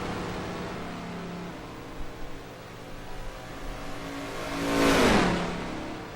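NASCAR race cars at Daytona run on track under a steady engine drone, then one car roars close past around the five-second mark, its pitch sweeping down as it goes by.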